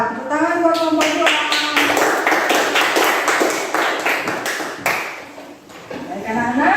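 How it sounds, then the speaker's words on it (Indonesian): A classroom of students applauds a group, a burst of dense, close clapping that runs for several seconds and tapers near the end, with voices speaking over it. "Tepuk tangan buat kelompok 2."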